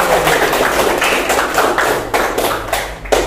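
A classroom of pupils claps hands together, a dense, steady patter of many hands close by with a few sharper slaps near the end.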